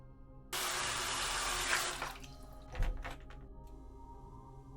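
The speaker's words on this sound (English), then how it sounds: "That's a really harsh water sound." Harsh, loud rush of running water from a faucet in a Nancy Drew video game, starting abruptly and pouring steadily for about a second and a half before tapering off, followed by a thud and quieter ambient game sounds.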